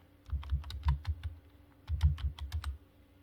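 A computer keyboard is typed on in two short, quick bursts of close key clicks separated by a brief pause.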